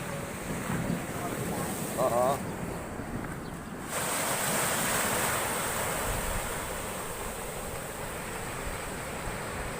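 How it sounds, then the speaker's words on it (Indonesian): Heavy surf roars continuously with wind buffeting the microphone, big waves flooding into a coastal fishing village and harbour, a loud wash of water rushing close by. "Ini airnya pada masuk kampung semua."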